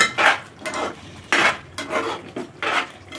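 Bottle gourd curry with garam masala and coriander being stirred in a pan, a spoon scraping and clinking against the metal in four or five rhythmic strokes, close and clear.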